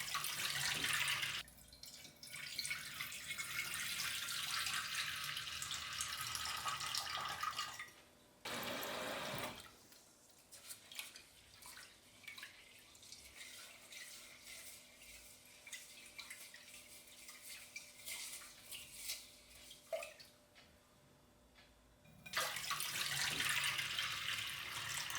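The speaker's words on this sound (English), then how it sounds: "I rinse the rice until the water runs perfectly clear." Rice is rinsed under a running kitchen tap, the water splashing and rushing steadily for long stretches and pausing briefly once, with no talking over it.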